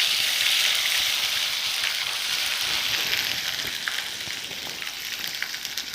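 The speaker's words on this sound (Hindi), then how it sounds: "तेल को हमने गरम कर दिया, लहसुन अदरक का पेस्ट" Garlic ginger paste fries in hot oil for green chicken karahi, a steady, close, bright sizzle that crackles continuously and fades slightly over the seconds.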